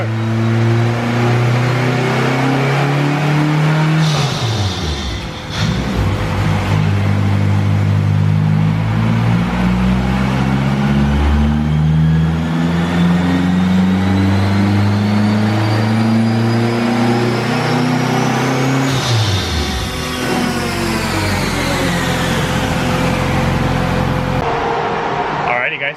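A Honda Civic converted to AWD with a K-series engine revs hard through a pull, its loud engine note climbing steadily, dropping briefly at each shift and rising again for about 26 seconds, with some talk faintly underneath.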